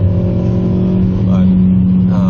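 A 2007 Honda Civic Si engine drones loudly from inside the cabin as it pulls through the gears, a steady close hum with someone talking over it.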